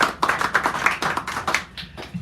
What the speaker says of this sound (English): Give him a round of applause, though.